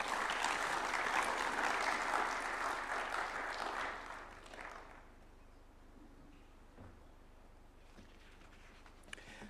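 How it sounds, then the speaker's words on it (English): A crowd at a New Year diplomatic briefing at State House, Nairobi claps in sustained applause that fades out after about five seconds, leaving quiet room tone with a few faint knocks. "Another round of applause for Zainab."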